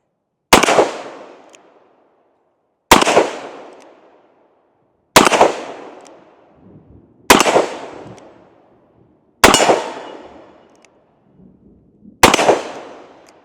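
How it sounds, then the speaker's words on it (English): Six loud, sharp gunshots from a Ruger GP100 .357 revolver with a six-inch barrel, fired in single action at an outdoor range, spaced roughly two seconds apart, each ringing out and decaying before the next. "go ahead and take a few more shots with her in single action"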